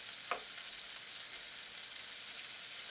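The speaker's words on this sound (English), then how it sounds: "Some people saute it in this bacon grease with the bacon still in it." Chopped onion sautéing in bacon grease with bacon still in the pan, a steady bright sizzle throughout with one short scrape of a utensil early on, no talking.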